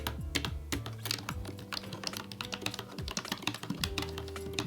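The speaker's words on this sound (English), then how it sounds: "here are the sounds of the keys from the keyboard" Rapid typing on a clicky Seenda computer keyboard, keys clacking up close in a busy, uneven stream with no voices.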